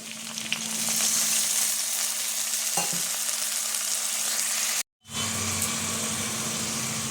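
Chopped tomatoes, slit green chillies and a ground ginger, garlic and dried chilli paste fry in a pan with a splash of water, giving a loud, steady close-up sizzle that cuts out for a moment before resuming.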